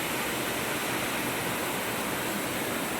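River waterfall upstream in a kampung at Padawan, a steady broadband rushing roar of falling water that fills the whole clip, close and continuous with no voices.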